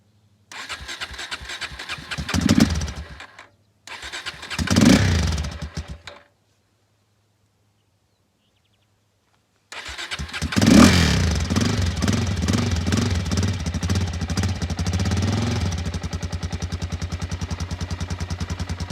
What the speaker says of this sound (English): Little cold start.